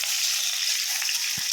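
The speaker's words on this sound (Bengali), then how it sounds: "এর মধ্যে আমি তেজপাতাটা দিয়ে দেব ফোড়নে।" Bay leaf dropped into hot ghee for a tempering, giving a loud, steady close hiss of sizzling with a faint stir near the end and no talk.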